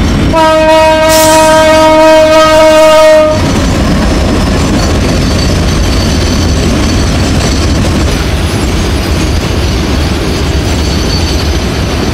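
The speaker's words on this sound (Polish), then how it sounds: "Pobudka o 2:00 w nocy, wywołana przez łoskot nadjeżdżającego składu towarowego" A freight train approaching in the middle of the night at 2 a.m. opens with a loud sustained horn blast, then a heavy continuous rumble and rolling clatter of wagons passing very close, loud and unbroken.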